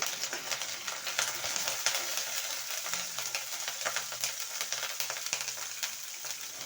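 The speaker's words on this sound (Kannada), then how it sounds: "ಬೆಳ್ಳುಳ್ಳಿ ಫ್ರೈ ಆದಮೇಲೆ ಕರಿಬೇವು ಇದ್ದೀನಿ ಇದನ್ನು ಸ್ವಲ್ಪ ಫ್ರೈ ಮಾಡ್ಕೊಳ್ಳಿ" Garlic and curry leaves frying in oil in a pan for baby corn manchurian, a steady, fairly quiet crackling sizzle with light stirring and no voices.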